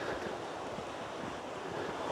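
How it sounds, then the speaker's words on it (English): A waterfall roars continuously nearby, a steady broadband wash of rushing water with no voices. "So much water coming down here, that's great."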